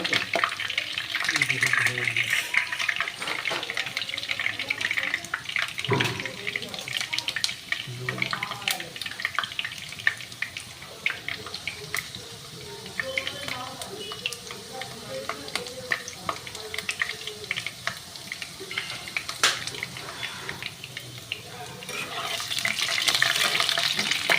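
Small pieces of potato frying in hot oil for a Bengali chicken dish, a dense, continuous sizzle with crackling pops and occasional stirring scrapes, close and steady throughout.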